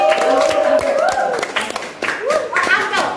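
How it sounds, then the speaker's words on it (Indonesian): An audience claps after a poetry performance at a World Poetry Day event, a burst of dense applause that rises and thins in waves, with a voice talking over it. "Beri tepuk tangan sekali lagi."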